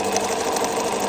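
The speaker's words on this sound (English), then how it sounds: "It's going to straight stitch to the beginning" Bernina 1000 Special sewing machine running steadily while stitching a buttonhole, a continuous close whirring hum with fast regular needle clatter, alone without talk.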